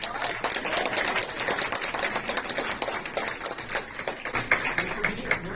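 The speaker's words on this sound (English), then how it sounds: "Big round of applause." An audience at a U.S. citizenship ceremony claps in a quick, uneven patter of many hands, fairly close and steady, with a few voices underneath.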